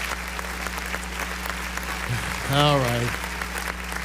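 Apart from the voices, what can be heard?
studio audience applause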